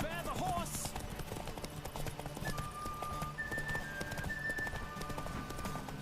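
Galloping horse hooves from The Witcher 3 video game, rhythmic and continuous, with sustained game music tones and some speech mixed in.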